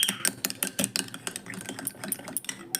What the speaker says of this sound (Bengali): খুব ভালো করে মিশিয়ে নিব, খুব ভালো করে কিন্তু মিশাতে হবে।